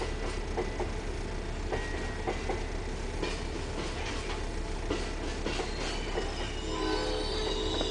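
An Amtrak passenger train with Genesis locomotives rumbles and slows toward a stop, steady wheel noise with brief squeals and brake hiss building near the end.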